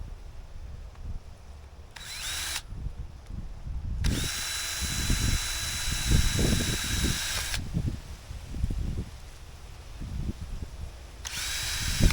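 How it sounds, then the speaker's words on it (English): A power drill whines in several bursts, one long stretch of steady high-pitched drilling between shorter runs, close by with no talking. "now that everything's correct, I want to drill a hole."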